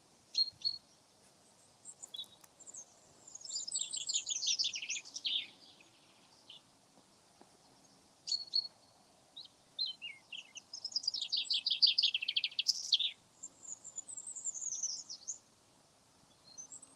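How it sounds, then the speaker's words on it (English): Robins and chaffinches sing in a churchyard at Brampton Old Church, with bright, trilling phrases in several bursts separated by short pauses, heard clearly against quiet surroundings. "Robins and chaffinches, love it."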